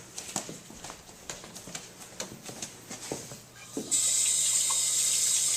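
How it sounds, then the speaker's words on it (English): A lab sink tap rinses out a beaker: first a series of clinks and knocks of glass against the sink, then the faucet opens into a loud, steady rush of running water close by. "This beaker needs to be rinsed out."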